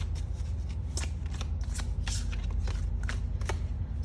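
A deck of tarot cards is shuffled continuously at close range, making a steady, dense rustle with sharp riffling snaps throughout. No one talks.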